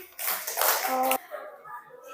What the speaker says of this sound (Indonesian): Fadil, kasih tepuk tangan dong untuk Fadil.